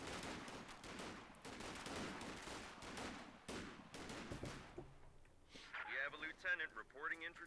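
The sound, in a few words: M1 Garand rifle gunfire in the video game Company of Heroes 2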